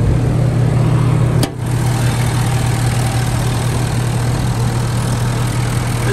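A 2011 Ford F-250 Super Duty's 6.7 Powerstroke diesel engine idles with a steady low rumble and hum, one brief click breaking the constant drone.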